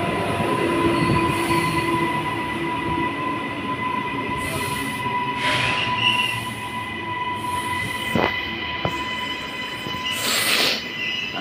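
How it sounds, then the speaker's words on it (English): An SMU express train passes through South Brisbane station, a steady loud rumble of wheels on rails with brief squeals and clanks, close by and continuous throughout. "And the express train is an SMU service."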